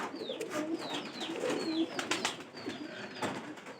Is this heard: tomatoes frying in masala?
no